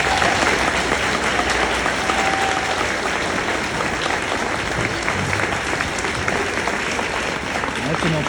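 Loud, dense applause from an audience at a Chamber of Commerce awards ceremony honoring an educator, continuous hand clapping filling the whole stretch without pause.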